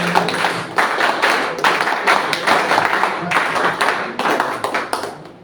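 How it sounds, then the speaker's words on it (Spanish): Audience applause after a book presentation, a loud close burst of many hands clapping in uneven waves with a few sharper individual claps throughout. "para la cual pido un fuerte aplauso nuevamente"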